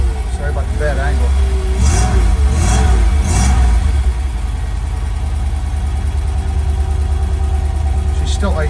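A cold car engine idles steadily just after being started, a fairly high, even running note close by with a brief rise in revs early on; no one talks over it.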